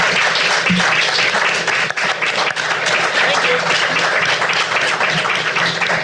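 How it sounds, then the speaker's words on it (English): Loud, sustained applause at a city council candidate forum for the candidates, many hands clapping close by in an even wash, with brief low thumps from handling noise. "please have a round of applause for our candidates"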